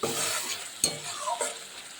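Masala spice paste with cumin and mustard frying and being stirred in a pan for a Bengali fish curry; a steady close sizzle with a couple of sharp scraping strokes.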